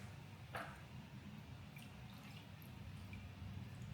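Brine dripping off raw turkey wings, a few faint, scattered drips and a soft wet sound against a quiet hum, with no one talking.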